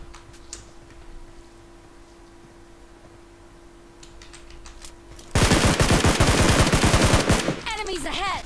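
Rapid automatic gunfire from PUBG Mobile erupts loudly after a quieter stretch of scattered ticks and clicks, a dense burst of shots running to the end.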